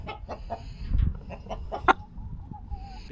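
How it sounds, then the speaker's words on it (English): A live chicken clucks in short bursts close by, with scuffling and handling noises around it in a home kitchen setting. "All right, we got us a chicken."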